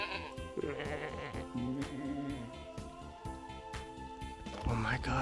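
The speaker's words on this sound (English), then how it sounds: "Peep these goats though." Goats bleating in a countryside village, several wavering bleats close by, with people talking over them.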